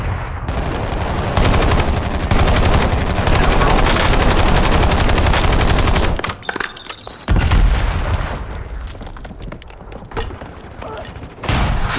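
Call of Duty gunfire: dense, loud automatic bursts and single shots fill the clip, broken by a brief lull and a mechanical clatter, with a player talking underneath.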